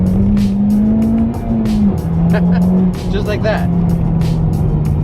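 A Honda Civic Type R accelerating hard, its engine tone climbing loud and close and dropping back briefly through gear changes, while someone talks over it.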